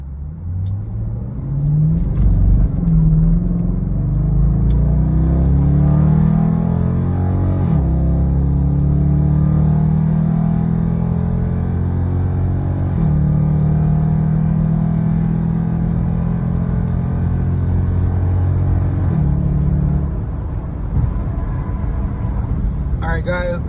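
A 2020 Dodge Durango with a modified exhaust, revving and pulling off an expressway: a loud, close, deep rumble that climbs through several rising pitch sweeps as it accelerates and shifts.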